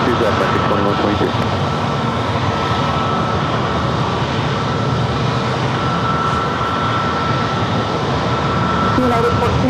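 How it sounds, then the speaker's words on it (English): An American Airlines jet on its takeoff roll from runway 27 at San Diego airport gives a loud, continuous engine roar that holds steady throughout, with voices faintly present underneath. "American 2122 and runway 27 cleared for takeoff."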